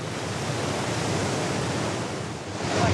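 Big Pacific Ocean waves crash on the Hawaiian shore in a loud, dense, continuous roar of surf, with no voices.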